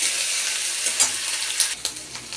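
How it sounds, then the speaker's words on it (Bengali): Onion paste fries in oil with a continuous, close hiss and sizzle, broken by a few light scraping stirs. "পেঁয়াজ বাটাটা একটু ভাজা হবে।"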